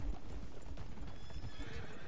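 A buckskin horse in the video game Red Dead Online whinnies and stamps its hooves, the neigh and clopping steps close and steady over an outdoor ambience.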